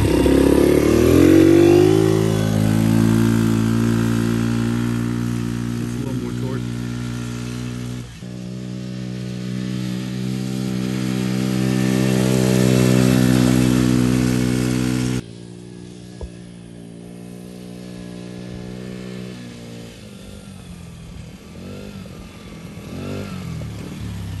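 A Can-Am DS90X youth ATV engine runs steadily with a rising, strained drone that shifts lower partway through, the motor close and loud with no talk over it.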